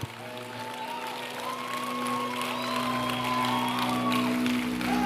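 A church congregation applauds steadily for several seconds, a dense wash of clapping mixed with scattered voices and a sustained tonal hum, growing slightly louder toward the end.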